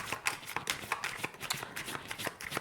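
Tarot cards rustle and slide against each other in a quick flurry of soft papery flicks and shuffling taps, close and fairly quiet, with no talking.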